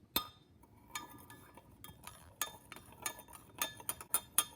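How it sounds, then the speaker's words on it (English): Repeated light clinks of a spoon stirring jello in a cup, irregular taps that quicken toward the end, close and fairly quiet. "and you give it a stir."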